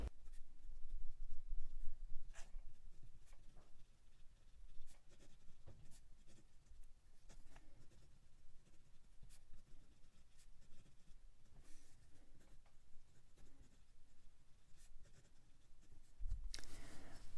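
A Leonardo Momento Zero fountain pen with a 14 karat gold nib scratches softly across paper in a long run of faint strokes, quiet and close, ending in a louder knock.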